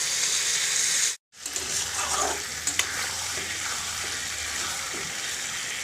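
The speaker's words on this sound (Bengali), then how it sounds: "চিকেনটা ভালো করে কষিয়ে থাকবো পাঁচ দশ মিনিট মতো এরই মধ্যে ছোলা ডালটা দিয়ে দেবো" Chicken with chana dal is stir-fried in a pan, sizzling steadily with scraping stirs close by. One brief silent break comes early on, and no one speaks.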